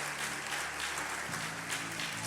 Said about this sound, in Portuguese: Quem crê nisso diz amém e aplauda Jesus bem forte.